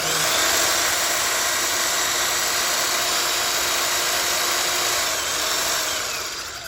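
A handheld power sander with a rear trigger, fitted with sandpaper and running at 1,475 feet per minute, gives a steady, loud motor whir that holds throughout and eases off slightly near the end.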